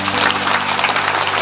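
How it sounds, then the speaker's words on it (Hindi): A congregation claps together during a religious sermon, a dense burst of applause with a steady tonal hum running beneath it. "ताली बजा दो ताली"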